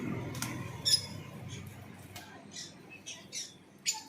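Foreign birds in a bird shop in Murshidabad give scattered sharp squawks and chirps, fairly faint over a low background hum, with a few louder calls spaced irregularly.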